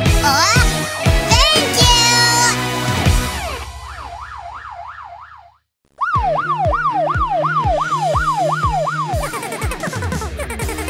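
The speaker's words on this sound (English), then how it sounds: "E-O-E-O, I'm a police car." A cartoon police car siren wails in a rapid, rising-and-falling electronic yelp, loud and close, cutting out briefly midway before resuming over a bouncy musical background.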